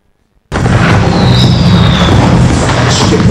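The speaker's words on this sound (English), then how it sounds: "Ship was firing star shells." A naval ship fires star shell flares in a Cuban Missile Crisis film scene: after a brief silence, a sudden loud blast breaks into a sustained, roaring rumble.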